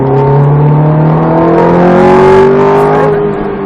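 Ferrari F430 engine building revs as it accelerates on a track, a loud, steady rising drone heard close from onboard with no talk.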